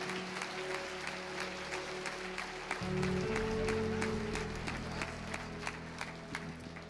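A church congregation breaks into sustained applause, a steady wash of many hands clapping at once, with a low organ or keyboard note swelling under it in the middle.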